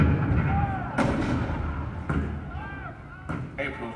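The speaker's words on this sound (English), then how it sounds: "The cannon spoke for war, bitter, violent, and devastating." Cannon fire at Fort Sumter on April 12, 1861: three heavy booms spaced about a second apart, each a sharp blast fading into rumble over a murmuring background.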